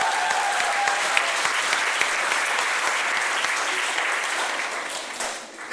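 A church congregation applauds during a Wednesday worship service in Daejeon, South Korea, with full, dense clapping from many people that holds steady for several seconds and then begins to fade at the end.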